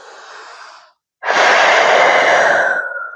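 Heavy, close breaths from a person taking a short rest during a deep squat and hip flexor mobility exercise session; a softer exhale fades out, a brief pause follows, then a loud sustained breath with no talking.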